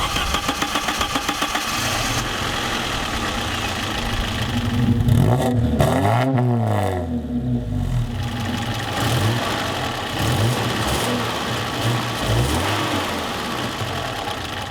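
A 1987 Alfa Romeo Spider with Bosch electronic fuel injection cranks with rapid starter pulses, catches and revs up and down, then settles into a steady mid-pitched idle close by.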